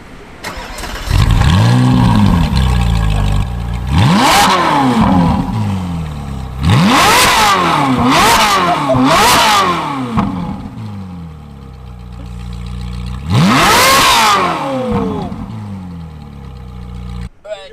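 A supercar on a Hong Kong street revs hard several times, loud close blips that climb sharply and fall back, with a longer rev near the end and idle rumble between bursts.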